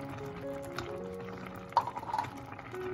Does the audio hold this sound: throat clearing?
no